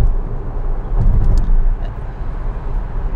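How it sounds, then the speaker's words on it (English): A car passes alongside on the road, heard from inside a Tesla as a steady low rumble of road and engine noise that swells slightly, then eases. "So I'm going to slow down to let that car pass."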